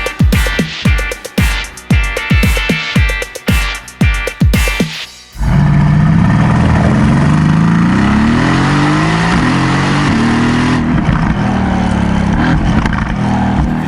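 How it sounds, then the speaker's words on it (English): A 2018 Mercedes-AMG GT Roadster engine revs in sharp repeated bursts, then a sustained roar as the car accelerates away, the pitch climbing and falling through gear changes. "How does this car sound?"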